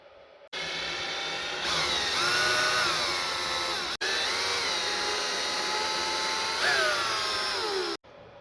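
A cordless power tool spins out screws on a Traxxas M41 RC boat, whirring steadily in close, loud bursts with pitch swoops as it starts and slows, separated by brief clicks of silence.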